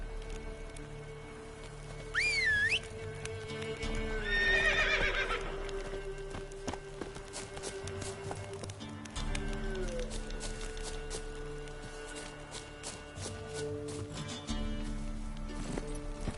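A horse clip-clops steadily at close range in The Witcher 3: Wild Hunt, with a whinny and scattered rain-like pattering over a low ambient hum, game-style sound design.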